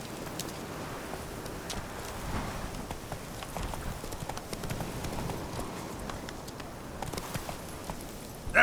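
A horse gallops in The Witcher 3: Wild Hunt on PS5, its hooves clip-clopping in a quick, steady rhythm that runs the whole way through over a soft ambient background.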